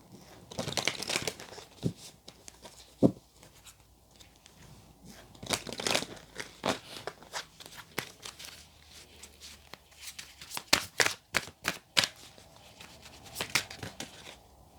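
African Goddess Rising oracle cards being shuffled by hand, with soft riffles, crinkles and taps coming in irregular bursts at close range, with no voice.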